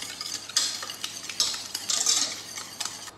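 Whisk beating egg yolks, sugar and cornstarch in a bowl for a lemon tart filling, giving close, rhythmic scraping strokes and bright clinks in irregular bursts, with no talk.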